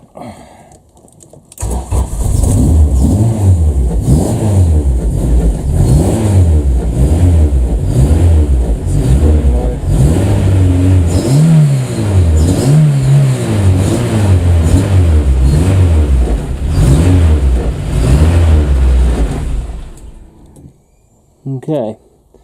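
A Honda Civic EF, newly rewired from OBD0 to OBD2, cranks and catches after a quiet start, then its engine revs repeatedly in rising and falling surges close by before cutting off near the end.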